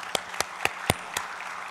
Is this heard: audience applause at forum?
yes